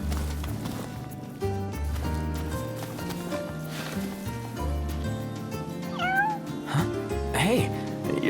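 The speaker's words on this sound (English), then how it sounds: "Hey, you're the cat we saw in Galden." Cat meowing in the Final Fantasy XV video game, several clear mews set over steady background game music with a faint rhythmic clip-clop.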